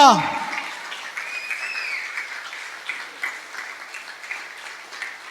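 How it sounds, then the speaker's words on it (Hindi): Applause from a church congregation, a steady wash of clapping that carries on throughout after a brief opening sound. "क्यों ना प्रभु यीशु मसीह के लिए जोरदार तालियां बजाएं।"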